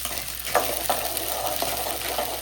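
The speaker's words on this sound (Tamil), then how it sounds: "நல்லெண்ணெயில் சின்ன வெங்காயம் இஞ்சி பூண்டு போட்டு" Shallots, ginger and garlic frying in sesame oil give a soft continuous sizzle, with a few light stirring taps over the crackle.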